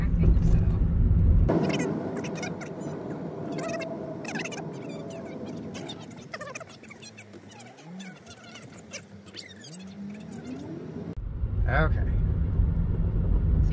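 A Honda car idling and creeping along a sandy track while turning around in a small wide spot, a low engine rumble rising and falling with light revving, under brief talk from people inside.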